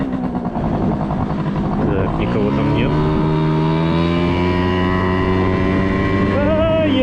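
A Honda moped engine climbs slowly in pitch under rider speech, steady and close as it gathers speed with a gentle, laboured whine.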